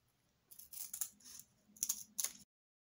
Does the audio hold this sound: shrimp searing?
no